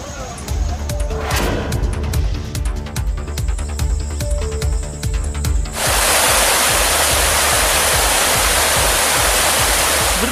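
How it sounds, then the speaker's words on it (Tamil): Ayyanar Kovil waterfall in Virudhunagar district, in the Western Ghats hills near Rajapalayam, roars after heavy rain. A loud, steady rush of falling water takes over about halfway through, after a stretch of rhythmic background sounds. "விருதுநகர் மாவட்டம் ஐயனார் கோவில் அருவி ஆர்ப்பரித்து கொட்டிய காட்சிதான் இது"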